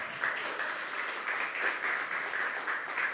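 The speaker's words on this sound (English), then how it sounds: "let's give a round of applause to our community partners" Sustained audience applause for community partners at a mayor's youth summit, a steady wash of many hands clapping at moderate loudness throughout.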